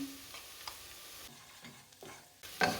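A spoon scrapes and stirs through a pot of sizzling onions and pepper paste, with soft intermittent scraping strokes over a low frying crackle.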